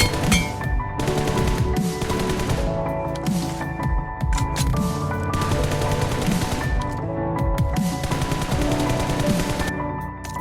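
Rapid automatic gunfire from PUBG Mobile, with bursts of shots filling the mix throughout and game sound layered over the firing.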